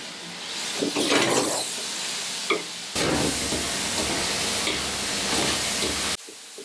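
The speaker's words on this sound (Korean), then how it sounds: "그리고 물엿과 간장, 깨 등을 첨가해서 다시 볶는 과정." Anchovies and shishito peppers are stir-fried with corn syrup, soy sauce and sesame at a stall in Chungju's Muhak market, giving a loud continuous sizzle with scraping stirs that cuts off abruptly twice.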